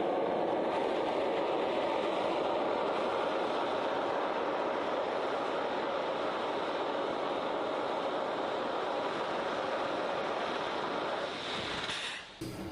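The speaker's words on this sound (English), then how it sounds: "It lets off excess steam." The Roaring Camp steam train lets off excess steam on its return, a steady, loud hiss and rumble that runs continuously before tapering at the end.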